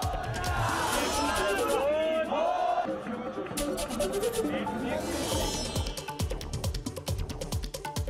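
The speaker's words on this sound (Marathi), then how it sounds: "गणेश भक्तांची मोठी गर्दी" Large crowd of devotees at a Ganesh immersion procession in Pune, a dense roaring hubbub of voices and shouts, close and loud throughout, with scattered whistles and cries rising above it.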